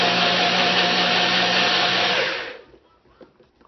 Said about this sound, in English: we're going to blend this until it's smooth